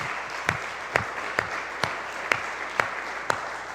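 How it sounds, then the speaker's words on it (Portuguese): A church congregation at the close of a Pentecostal service claps for the Lord: soft, fairly even crowd clapping with a regular beat of louder accents about every half second, steady from start to finish. "Pode aplaudir ao Senhor, irmãos."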